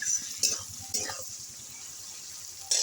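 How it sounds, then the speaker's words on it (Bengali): Chopped onion, tomato and green chilli fry in oil with a steady hiss and sizzle, broken by a few louder bursts as the pan is stirred. "দিয়ে আমি ভালো করে এটা ভেজে নেবো"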